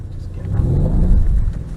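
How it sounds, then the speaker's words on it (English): Mercedes-Benz car on a track during slide driving, engine rumbling with a brief throttle blip that swells and eases, loud and close inside the car. "Start the gas. Again, a little blip."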